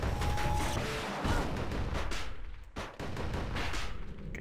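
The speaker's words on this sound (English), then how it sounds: "just gonna take these guys out with the Calamity Cannon" Calamity Cannon in Bastion firing at enemies: a dense barrage of loud, booming blasts that pile up for several seconds with one brief gap, no talk over it.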